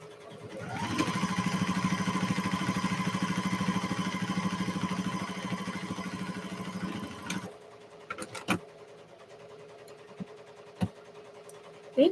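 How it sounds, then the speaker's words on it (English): A sewing machine stitches up a pair of shorts at a tight stitch length, running steadily and loudly for about seven seconds, then stops, leaving quiet with a few small clicks and taps. "I'm going to start off by sewing up the shorts"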